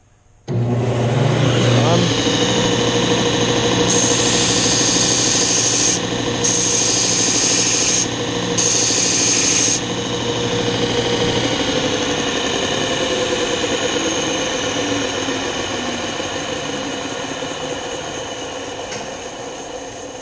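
A combination belt sander runs with a loud, steady machine hum and high whine throughout, rising and falling slightly as work presses against it, then slowly winding down.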